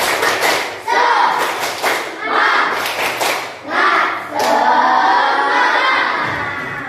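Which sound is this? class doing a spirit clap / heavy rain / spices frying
class doing a spirit clap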